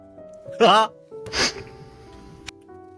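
A single sharp sneeze bursts out amid quiet background hum, followed by a second softer burst and a small click.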